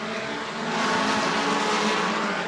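Race cars at New Smyrna speedway roar past together coming off a corner, a loud blended engine drone swelling and holding steady for a couple of seconds under broad track noise.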